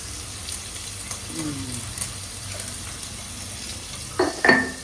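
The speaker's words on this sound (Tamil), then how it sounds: "உப்பு போட்டு நல்லா வதக்கிக்கலாம்" Tomatoes and onions sautéing with salt in a pan for a Sunday mutton biryani meal, a low continuous sizzle under scattered soft scrapes, then a couple of louder metallic clanks of a utensil against the pan near the end.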